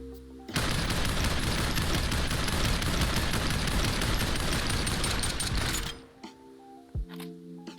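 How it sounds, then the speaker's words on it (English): Sustained automatic fire from a CX4 assault rifle in the VR shooter Population ONE, a dense, loud stream of rapid shots for about five seconds, then stopping abruptly with a few faint clicks and tones afterward. "Here's the bullet spread test with the CX4."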